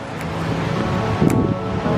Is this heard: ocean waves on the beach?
yes